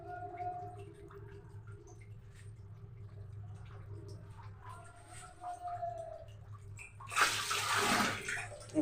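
Hands being washed under running water in a kitchen, first a low steady hum with faint splashing, then a louder rush of water from a tap near the end, with no talking.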